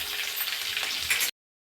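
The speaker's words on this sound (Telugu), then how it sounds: "ఆయిల్ వేడైన తర్వాత సన్నగా కట్ చేసి పెట్టుకున్న పచ్చిమిర్చి అయితే వేసుకుని వేయించుకోవాలి" Green chillies and cumin seeds sizzle steadily in hot oil, a dense close frying hiss that runs unbroken for over a second, then cuts off abruptly into silence.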